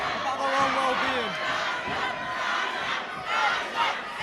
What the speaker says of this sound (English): You can hear the crowd going wild, shouting Sasha, the smasher, in the red corner.